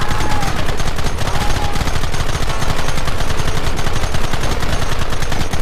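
A loud, nonstop hail of rapid gunfire from the game Red Dead Redemption hammers through a close-range firefight, with shots blurring into steady machine-gun-like chatter with no pauses.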